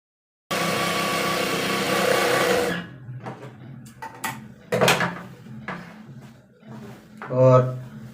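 A sewing machine runs in a steady burst while stitching petticoat panels together, then stops and gives way to short clatters and handling of fabric and parts, with one brief whirring run near the end.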